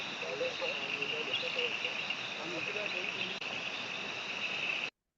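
A blue-eyed bush frog calls in a steady, insect-like high trill that runs continuously at moderate loudness, then cuts off abruptly.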